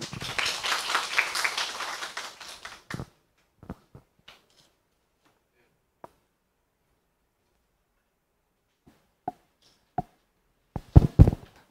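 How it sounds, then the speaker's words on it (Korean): An audience at a regional industry forum in Daegu applauds to welcome a speaker. Brisk clapping lasts about three seconds and then stops, leaving only scattered faint knocks and taps in a quiet hall. "여러분 큰 박수로 맞이해 주십시오."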